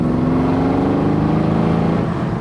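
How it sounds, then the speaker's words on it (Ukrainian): A Mercedes CLS 63, apparently a 2015 model, revs loudly and close by with a deep, throbbing exhaust note that holds steady, then eases slightly near the end. "як я б не любив би Мерседес, вихлоп у них просто бомбезний"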